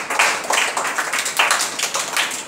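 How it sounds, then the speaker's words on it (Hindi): A group in a classroom claps in a loud, continuous burst of applause for about two seconds, with rhythmic clapping that has no pauses. "चले इसके लिए जोरदार ताली बजाइए"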